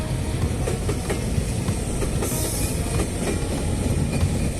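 A moving train rolling slowly along a railway line with a track fault, heard close by as a continuous loud rumble with rhythmic wheel clicks and a brief high squeal midway, no voices.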